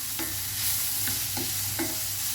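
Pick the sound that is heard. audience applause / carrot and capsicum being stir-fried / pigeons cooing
carrot and capsicum being stir-fried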